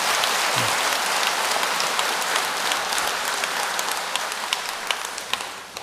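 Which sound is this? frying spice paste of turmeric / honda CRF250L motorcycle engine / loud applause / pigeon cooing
loud applause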